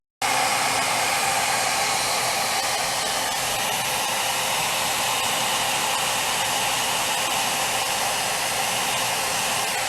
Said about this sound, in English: Just use a hairdryer and heat it up